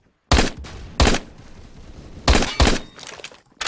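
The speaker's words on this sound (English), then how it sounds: "this gun basically does two shots" Four sharp, loud MSG 90 sniper rifle shots in the Phantom Forces shooting game come in two quick pairs, each cracking bang followed by a brief echoing tail.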